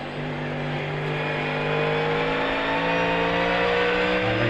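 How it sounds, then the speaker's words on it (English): A supercharged V8 GT3 race car in iRacing drones loudly with a steady engine tone and whine, the revs climbing gradually while it is heard from outside the car, with no talk. "listen to that lovely supercharged V8 here"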